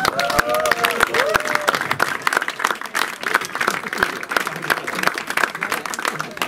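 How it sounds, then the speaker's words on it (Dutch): A crowd at a basketball club's golden jubilee applauds the chairman, loud close clapping with sharp individual claps, cheering voices and a whistle-like tone early on, sustained throughout. "Applaus voor de prezes."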